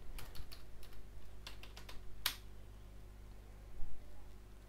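Typing on a computer keyboard in short quick bursts of clicks, fairly close, followed by a single sharper key hit and then near silence with a faint background hum.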